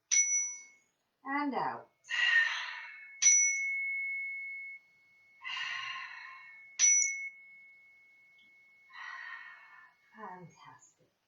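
A clear yoga chime rings out three times with long, sustained bright tones that fade slowly, alternating with a guide's calm spoken instructions and slow, audible deep breaths in and out.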